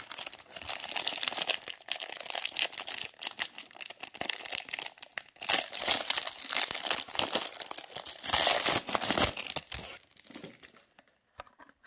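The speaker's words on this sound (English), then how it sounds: "let's take it out of the package" Plastic packaging crinkles and crackles continuously as a Tarmac RWB diecast car is unboxed, with bursts of louder rustling and tearing, close up, before falling quiet at the end.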